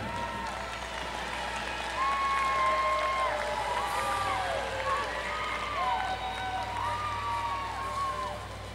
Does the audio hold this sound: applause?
yes